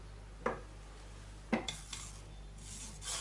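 A spoon stirs creamy mushroom soup through a strainer, with two distinct metallic clinks against the mesh followed by softer scraping and light rattles, close and quiet, with no talking.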